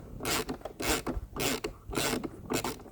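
A nylock nut is worked loose with a ratcheting tool on a Lymow mower blade, producing five or six close, rasping strokes in a steady back-and-forth rhythm with short pauses between them, no voices.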